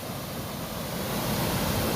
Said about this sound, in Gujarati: બંધ ઉપરથી પાણી પડે એ આ કેનાલમાં આવે